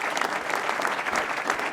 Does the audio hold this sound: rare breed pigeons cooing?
no